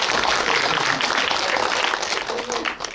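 An audience at a Cassiopeia cinematheque screening Q&A gives a burst of applause for actor Ahn Sung-ki, thick clapping that stays loud, then thins and fades toward the end of three seconds.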